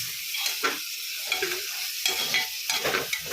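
Onion, capsicum and tomato fry in a pan with a steady hiss, while a spatula scrapes and stirs through them in uneven strokes, close up and continuous.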